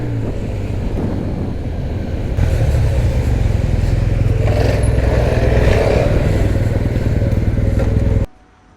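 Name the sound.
Yamaha TMAX 560 scooter engine with Crack Racing exhaust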